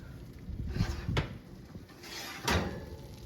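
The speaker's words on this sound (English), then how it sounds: "I'm going to be really quiet when I open the oven door because I want you to hear it, just the bubbling of the cinnamon spread and the sugar" An oven door is opened on baking cinnamon buns with cinnamon spread and sugar, giving a few close clunks and scrapes of the door, while any bubbling stays faint beneath the handling noises.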